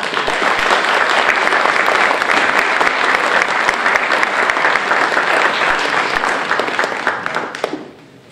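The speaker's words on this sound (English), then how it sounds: "that deserves a round of applause" Sustained, loud applause from an audience at a tribute event marking fifty years since poet Patrick Kavanagh, dense clapping holding steady for several seconds before tapering off at the end.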